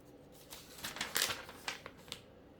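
Scissors snipping through glossy magazine pages to cut out pictures, a series of soft, quiet crisp snips and paper rustles, close by and without talk.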